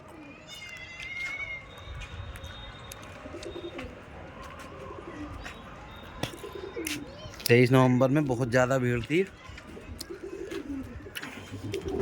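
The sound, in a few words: pigeons cooing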